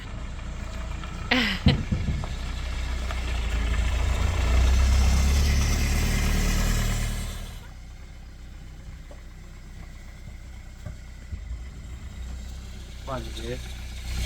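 Engine of a 1988 VW Transporter camper on its first test drive after oil leak and cooling system repairs, a low droning rumble that swells then drops to a quieter steady hum, with people talking over it.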